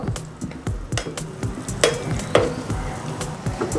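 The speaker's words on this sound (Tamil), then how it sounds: "என்ன டின் மீன் வந்து சில வேளையில் பறக்க பார்க்கும், எண்ணெய் கவனமாக நீங்கள் பிரட்டி விடுங்கோ" Canned tin fish frying in oil in a pan as it is turned, crackling sizzle broken by repeated scrapes and clinks of a utensil against the pan, close and busy.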